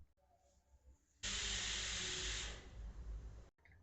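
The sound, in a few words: pressure cooker hissing steam while boiling white peas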